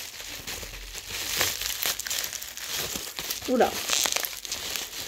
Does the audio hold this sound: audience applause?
no